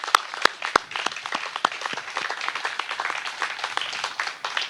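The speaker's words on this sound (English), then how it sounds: "Do me a favor and just give our water employees here a round of applause with me." Applause from an audience honoring city water employees at a lead-free water announcement opens with a few sharp, separate claps, then swells into a steady, moderately loud patter from the crowd.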